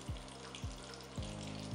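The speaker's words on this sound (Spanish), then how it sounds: "vamos a mezclar y a freír la cebolla hasta que comience a verse suave" Onion fries in oil in a hot pan, giving a constant close sizzle broken by regular low thumps about every half second, with no talking.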